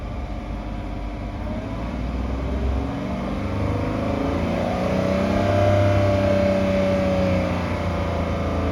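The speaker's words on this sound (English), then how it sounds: "Let's see if I rev it." Car engine idling and then revved up slowly, a steady, moderately loud hum that rises and falls back, with no talk.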